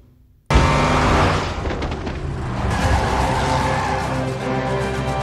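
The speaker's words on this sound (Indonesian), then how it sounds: "ada James yang mencoba menabrak Mike menggunakan mobil" A car in a film scene roars in abruptly after a brief quiet moment, loud and close, with a harsh engine rush and skidding noise that stays intense to the end.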